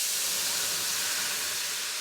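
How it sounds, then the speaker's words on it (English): Chicken stock poured into a very hot pan hisses and sizzles loudly, a steady, dense, steam-like roar lasting throughout. "Just pour it right in. The pan will sizzle because it's quite hot."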